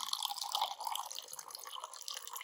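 Tap water runs into a cup, filling it up in a steady, bright trickle of splashing and dripping, close by and alone without any voices.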